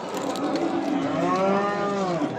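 A fattened calf moos at a cattle market in Beylagan, one long, loud, drawn-out bellow close by, with other cattle noise faintly behind.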